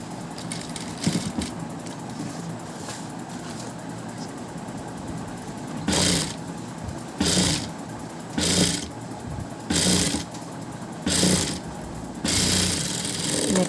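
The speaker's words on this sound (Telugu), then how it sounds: "నేను ఇప్పుడు ఇదైతే మిషన్ కుట్టే వేసేస్తున్నాను" A sewing machine stitches a blouse neckline in short, regular bursts of whirring that start and stop, over a steady background hum.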